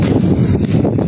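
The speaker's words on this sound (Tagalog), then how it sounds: "Ang hangin na!" Strong wind outdoors on a walk home buffets the microphone with a loud, continuous low rumble and gusty roar, briefly and with no talking.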